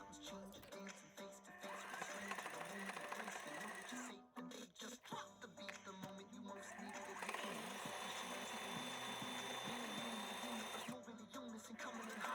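A sewing machine stitching around the edge of a pleated fabric face mask, a soft steady whirring run that pauses briefly midway before resuming, faint and close.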